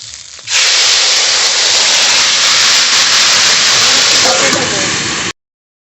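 Curry poured into a hot pan holding fried lata fish gives a sudden, loud, steady steam hiss. The hiss starts after a brief quiet moment, holds strong for about five seconds and then stops abruptly.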